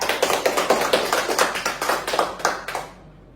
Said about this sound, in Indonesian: Sebelumnya kita beri tepuk tangan dulu buat Kakak Marsha ya.